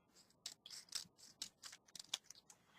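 Scissors snip through a rub-on image piece in a quick run of short, crisp cuts, trimming it closely with no halo left, heard up close and alone.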